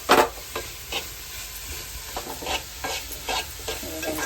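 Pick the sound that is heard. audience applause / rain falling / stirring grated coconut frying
stirring grated coconut frying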